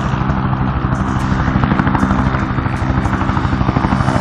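A helicopter in the Zero Latency virtual reality shooter Outbreak Origins gives off a loud, steady rotor thump and engine drone that fills the whole stretch, with no voices over it.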